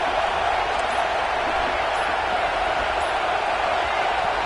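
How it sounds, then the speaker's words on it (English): A Penn State versus Texas football stadium crowd gives off a steady, loud roar, a continuous wash of noise with no distinct peaks. "this crowd is fired up. Listen to this noise here."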